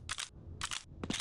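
Three sharp bursts of weapon fire from a grenade launcher attachment in Half-Life, each a short crackling blast, evenly spaced and moderately loud over a low game hum.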